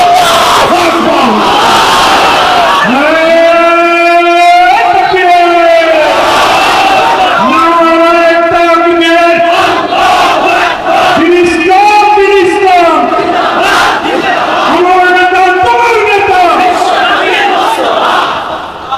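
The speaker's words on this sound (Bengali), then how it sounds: "মুমিনের ঈমান যুক্ত স্লোগান হবে আল্লাহু আকবার।" A large crowd chants a religious slogan in repeated swelling call-and-response waves, loud and close, roughly five surges separated by brief pauses.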